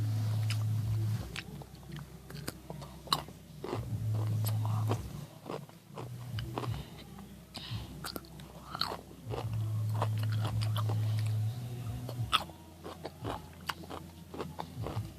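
Crunchy pickles are bitten and chewed close to the microphone, with loud crisp crunches recurring in bursts of chewing, separated by brief quieter pauses and sharp snaps, and no talking.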